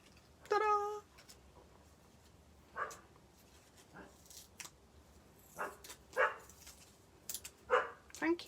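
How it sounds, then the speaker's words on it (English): A next-door neighbour's dog barks in short, separate bursts from a distance, spaced a few seconds apart, with a sharper, louder bark near the start and quiet rustling indoors between them. "That's my next door neighbour's dog."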